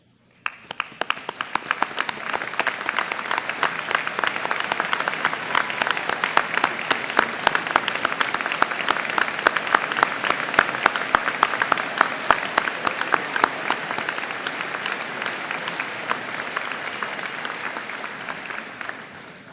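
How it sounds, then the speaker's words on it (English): Professors receive a standing ovation at the StFX spring convocation: a large crowd claps steadily for about nineteen seconds, swelling quickly at the start and fading out at the end. "I'd like to ask you to stand as we give you guys an ovation."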